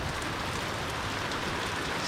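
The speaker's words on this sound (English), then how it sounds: "That's the rain, and that's my pond. And it is pouring" Heavy rain pours steadily during a thunderstorm over a backyard pond, a dense, loud, unbroken hiss with no pauses and no distinct thunder.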